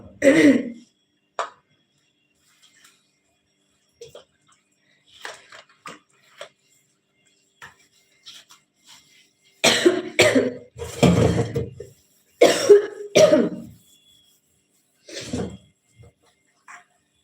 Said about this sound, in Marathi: खोकला जास्त आहे काय हो खूप